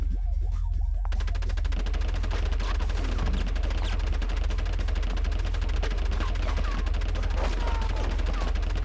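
Gunfire in the video game Conker's Bad Fur Day, a relentless stream of rapid shots over a loud, constant low drone, with game sounds mixed in and a voice briefly breaking through the dense barrage.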